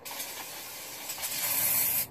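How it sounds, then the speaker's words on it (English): Aerosol spray hissing steadily onto M939 military truck rear brake springs during a brake job, a continuous close spray lasting about two seconds and growing slightly louder before stopping. "whenever you redo your springs, always spray them down"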